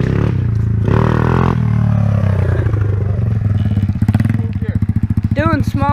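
Dirt bike engine revs and bogs as the rider pulls small wheelies, a loud close buzzing motor rising and falling with pulsing throttle, while people talk and shout over it.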